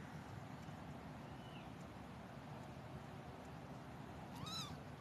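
A 14-day-old kitten gives a single short, high meow near the end, faint against a steady background hiss.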